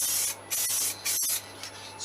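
A rattle can sprays paint onto a motorcycle tank on a GSXR 1000 streetfighter build in short hissing bursts, close and fairly loud, separated by brief pauses.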